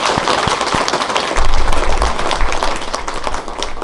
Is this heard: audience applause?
yes